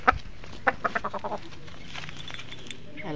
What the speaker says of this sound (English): Kukuk is our chicken.